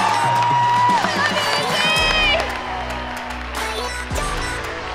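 Crowd at a CrossFit gathering cheers and whoops loudly, a dense wash of voices over booming bass music and a few sharp tones, filling the space continuously.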